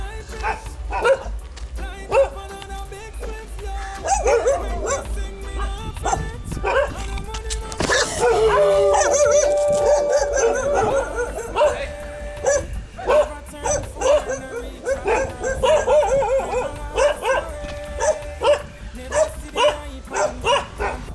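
Several dogs in Goa, India bark, yip and whimper in repeated, overlapping bursts at close range, with one long whining cry in the middle, while a person keeps talking throughout.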